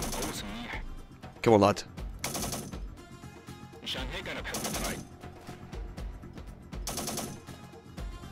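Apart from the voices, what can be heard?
gunfire in Syrian Warfare video game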